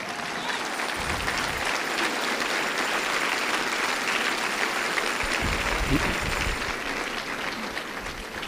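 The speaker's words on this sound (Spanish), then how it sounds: "Dale un aplauso a la roca eterna." Congregation at a church service breaks into long, sustained applause, a thick wash of many hands clapping steadily with faint crowd murmur and a few low thumps underneath.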